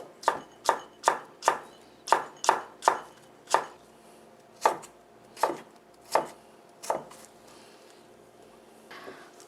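Radish is julienned with a kitchen knife on a cutting board, a run of about a dozen crisp, close chopping knocks in quick, slightly uneven rhythm that slows and fades out, with no talking.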